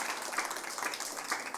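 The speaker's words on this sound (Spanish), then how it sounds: "Dale un aplauso fuerte entonces" Church congregation applauding loudly during an Advent Sunday sermon, a dense, steady wash of clapping hands sustained throughout with no pause.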